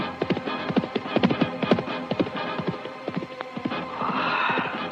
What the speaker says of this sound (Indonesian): seekor kuda yang ditunggangi oleh seorang laki-laki muda dan gagah berderap membelah kesunyian hutan